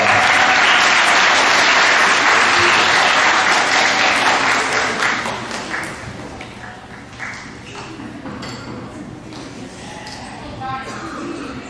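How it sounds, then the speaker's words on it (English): A crowd at a middle school awards assembly applauds loudly, the clapping strong at first and then thinning out into scattered claps that fade over the last several seconds. "Give them all a big round of applause."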